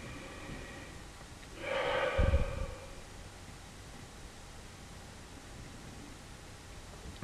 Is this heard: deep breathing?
yes